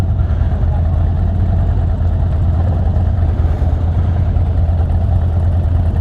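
A loud, steady rumble of many motorcycle engines running close by, a low continuous drone with no pauses.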